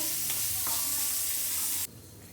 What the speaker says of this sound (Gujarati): એમાં આપણે ટુકડા કરેલા પનીર નાખી દઈશું. પછી આપણે આને હલાવતા રહીશું